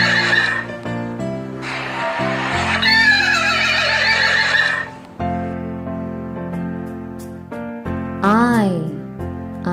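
A horse neighs repeatedly in a bright, shrill whinny, the calls standing out among musical accompaniment in a children's alphabet song, with a final wavering neigh near the end.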